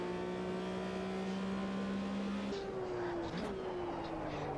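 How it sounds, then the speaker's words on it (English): Simulated engine of a 1974 Porsche RSR 3.0 in a racing sim, a steady droning tone that shifts pitch mid-clip as the gear changes, with a rising whine after. "the engine sound"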